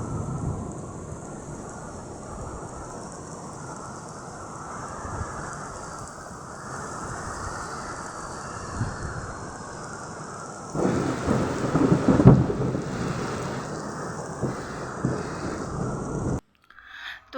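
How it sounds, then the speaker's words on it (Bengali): A thunderstorm with heavy rain pours outside on an afternoon, a steady roaring downpour with low thunder rumbling, swelling louder for a few seconds midway before cutting off abruptly near the end. "দেখতেই পাচ্ছেন যে বাইরে কতটা ঝড় বৃষ্টি হচ্ছে"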